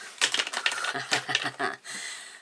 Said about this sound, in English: I'm going to zoom back out while I fussy cut her out